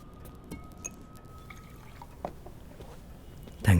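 Water is poured for drinking, giving a short liquid trickle with light glassy clinks and drips that lasts a few moments, followed by a sharper, louder knock at the end; the surroundings stay quiet apart from faint background noise.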